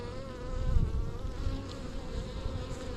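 Honeybees hum steadily around an opened hive in early spring, a dense, continuous drone that swells slightly now and then, close and fairly loud with no voices.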